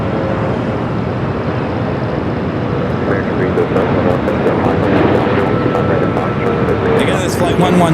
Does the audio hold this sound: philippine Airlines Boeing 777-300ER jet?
yes